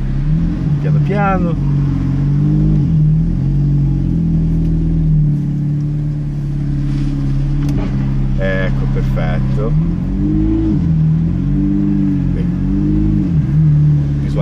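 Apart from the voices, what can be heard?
Ferrari car pulling away and accelerating on test drive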